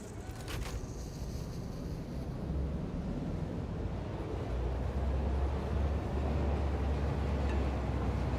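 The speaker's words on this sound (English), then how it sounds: "the concrete floor muffles the sound of the train" Muffled low rumble of a train passing beneath a concrete floor in the game Satisfactory, a steady dull roar that swells slightly and stays heavy in the low end throughout.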